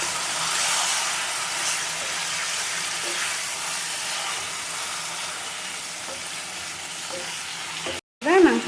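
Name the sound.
stirring chicken frying in a pan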